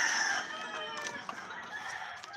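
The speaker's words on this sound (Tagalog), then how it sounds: "Marami kaming manok, marami kaming alagang manok." Chickens on a backyard farm clucking and crowing, a dense chorus of bird calls at moderate distance continuing throughout without talk.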